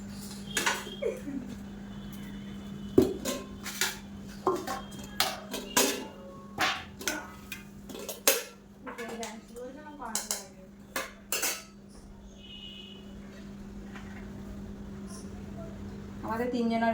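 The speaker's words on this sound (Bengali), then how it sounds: "এবার ভাত বাড়বো।" Rice being served at home with dishes, pots and utensils clinking in a series of sharp, close knocks and scrapes, irregular and spaced across the span, over a steady low hum with a voice briefly heard.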